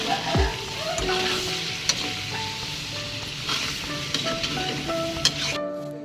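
Carabao (water buffalo) afritada stirred in a hot pan, with a steady, close sizzle of frying beneath scraping stirs and occasional light clinks of the utensil against the pan.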